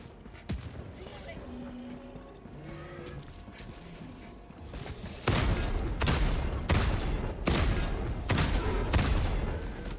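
An autocannon fires at alien bugs in Helldivers 2, heavy rounds booming in a steady spaced rhythm through the second half, loud and close, after a quieter stretch of distant battle noise with a voice talking now and then.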